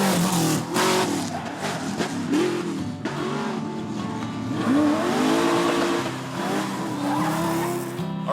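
A Jeep engine revs and surges while driving, loud and close, with rising and falling pitch sweeps and gritty tire and road noise throughout, no talking.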